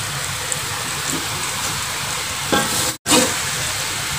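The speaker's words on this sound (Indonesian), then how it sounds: "Kita nyalakan apinya, kita aduk-aduk aja seperti ini ya sampai gulanya larut." Pandan sugar mixture stirred in a pan over the fire, a steady close bubbling sizzle with faint scraping, a short louder stir, a brief silent break, then the sizzling resumes.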